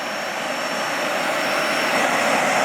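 A small cordless lithium electric air duster vacuum blows at a higher suction setting, a loud, steady jet-like whoosh that rises slightly in strength near the end.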